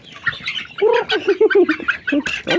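Assorted chickens of different breeds squawking loudly and close by, a rapid series of harsh, overlapping calls and clucks with no talking.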